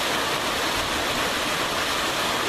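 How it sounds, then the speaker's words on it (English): Water pours in through a culvert fitted with fish baffles, a loud, constant rushing hiss like a small waterfall, close and unbroken, with no voices. "water flowing in"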